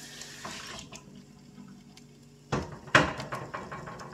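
Running tap water splashes into an egg bowl being rinsed in a kitchen sink, quiet at first and then a louder burst of gushing and clattering in the last second and a half.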